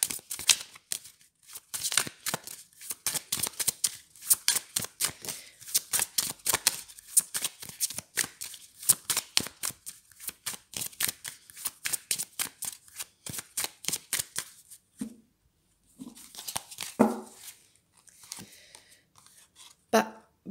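A deck of oracle cards gets riffled and shuffled by hand in long runs of rapid crisp flutters and snaps, close and clear, before a few slower handling sounds and light murmured speech at the end.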